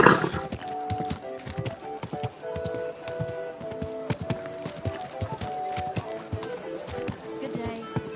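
Horse hooves clip-clop at a steady walking rhythm in the video game Kingdom Come, close and clear under continuous game music, with a voice briefly speaking near the start.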